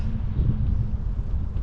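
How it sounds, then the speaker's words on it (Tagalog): Steady low rumbling wind buffeting close to the microphone during a bike ride, constant and fairly loud with no voices. "Lakas ang hangin."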